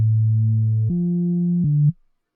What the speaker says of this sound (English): this bass was made in Serum. It's pretty a simplistic one, just a sine wave with a little distortion.